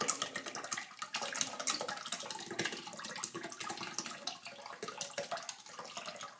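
Watery paper pulp slurry pours steadily into a papermaking screen, a continuous close splashing gush with small fluctuations throughout.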